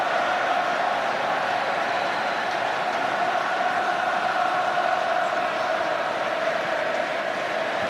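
A packed stadium crowd at a 2011 Rugby World Cup match between Ireland and Italy roars and sings in a dense, continuous wall of voices, loud and sustained throughout.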